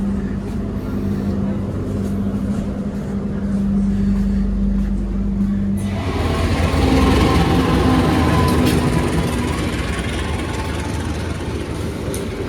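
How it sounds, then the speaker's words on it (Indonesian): Interior of an economy premium passenger train on the Joglo Semarkerto service across Central Java, a steady broadband rumble and rail roar that swells louder after about six seconds, with faint voices beneath. "Kereta api Joglo Semarkerto yang muterin Jawa Tengah, teman-teman."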